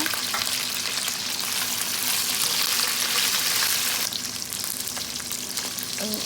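Chopped okra sautéing in a pan for sambar gives a loud, continuous oily sizzle up close, with occasional stirring scrapes and a brief dip partway through.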